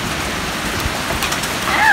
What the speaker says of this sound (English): Guys, that is hail.